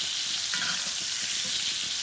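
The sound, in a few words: steaks butter basting in a frying pan with rosemary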